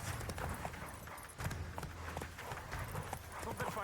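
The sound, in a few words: horse galloping in The Witcher 3 video game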